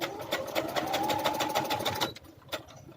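Sewing machine stitching long, loose stitches on fabric for a frilled raglan sleeve: a steady, fast, close mechanical whir and chatter for about two seconds, then it stops with a single faint click afterward.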